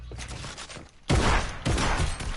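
Bursts of gunfire in a video game shooter: a sharp loud volley near the middle and a second burst shortly after, close and punchy, with muffled background game noise before.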